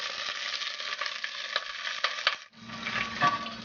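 Lobster shells crackle and sizzle in a hot pan of olive oil, a steady bright frying hiss, with a louder, fuller burst partway through as the shells settle; no voices, close and continuous.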